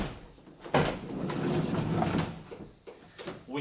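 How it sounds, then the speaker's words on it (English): The sliding side door of a Mercedes Sprinter van rolls open and sticks halfway, giving a sharp clunk followed by a rumbling slide along its track and a few softer knocks at close range. "So basically at this point the sliding door is only opening halfway."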